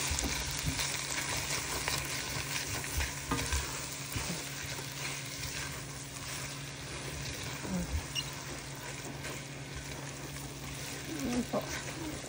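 Sautéed mung beans being added to chicken breast frying in a pan, giving a steady, close sizzle and crackle with stirring scrapes throughout, while a voice talks over the cooking.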